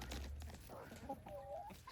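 Leghorn hens cluck softly nearby in a short burst of low, murmuring calls over a quiet background.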